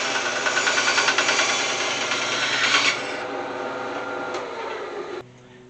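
A handsaw rasps through a 5/8 inch pine wooden dowel in steady, close back-and-forth strokes, slowing into a smoother grind before the cut finishes and leaves only quiet room tone.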